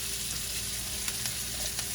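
Snipped thyme stirred into a sizzling blackberry and pear chutney in a pan, a steady close frying hiss with a few soft scraping stirs and no voices.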